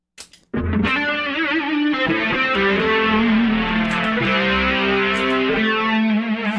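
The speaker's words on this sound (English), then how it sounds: "And here it is with the mid boost engaged." Heavily distorted electric guitar with a mid boost engaged and a thick, dark fuzz tone, starting after a brief pick noise and sustaining loudly and steadily for several seconds.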